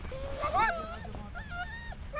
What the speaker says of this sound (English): So the dogs were a bit excited to see Nama.